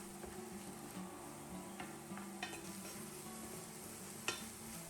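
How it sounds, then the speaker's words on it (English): Apple filling with a sprinkle of cinnamon sautéing in a pan, a soft steady sizzle with occasional scrapes and stirring taps, close and fairly quiet. "Sauté until the apples are dry and fragrant."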